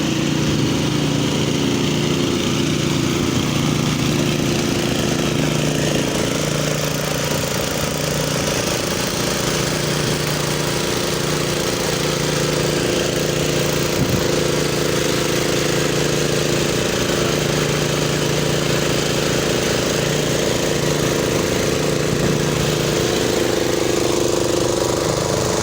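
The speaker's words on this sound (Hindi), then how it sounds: "मेवाशाह कब्रिस्तान में पंप के जरिए डी वाटरिंग" A water pump drains a flooded graveyard, running as a steady, loud, continuous engine drone with a constant buzzing hum that holds unchanged throughout, with no voices.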